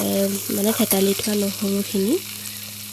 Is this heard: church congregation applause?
no